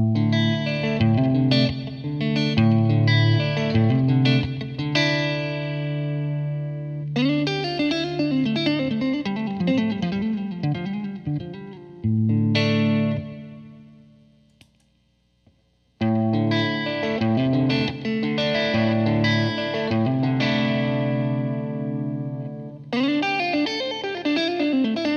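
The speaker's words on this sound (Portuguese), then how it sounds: "eu toco um trecho em que é só guitarra limpa com um pouco de reverb e em seguida eu ligo o Lotus com pouco drive" Electric guitar played clean with a touch of reverb, then through a Dumble-style Lotus overdrive pedal set to low drive; sustained chords and phrases ring loud and alone, with a brief near-silent gap before the driven part.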